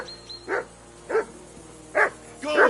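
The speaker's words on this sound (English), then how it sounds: "that barking's driving me nuts" A dog barks four times in short spaced bursts, close and fairly loud, against a quiet ambient bed in the medieval role-playing game Kingdom Come: Deliverance II.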